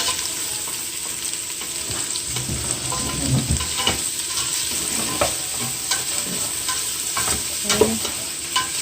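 Vegetables for chicken noodle soup cooking in a pot, hissing and sizzling steadily with intermittent spoon stirring and scraping close by, and no voices.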